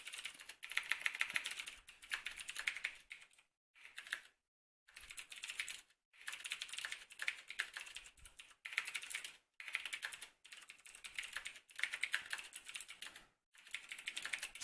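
Computer keyboard typing in bursts of rapid, close key clicks with short pauses between runs, no talking.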